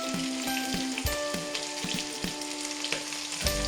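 Green chillies drop into a pan of frying onions and garlic for a field bean curry, with a steady close sizzle and crackle of hot oil and repeated scraping and stirring clicks of a utensil, with no voices.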